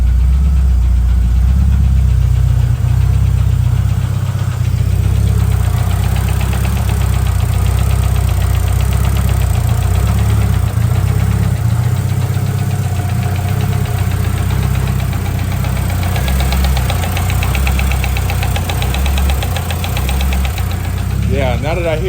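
A Honda H22 turbo engine in a CB7 idles loud and steady with a dense rumble, a light mechanical ticking from maladjusted valve lash running through it, close up in a garage-like space.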